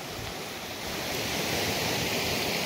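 A slightly high river flows past a sluice set up in the water for gold prospecting, making a constant broadband rush that swells a little partway through, with no voices.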